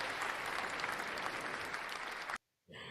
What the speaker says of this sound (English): So, good round of applause.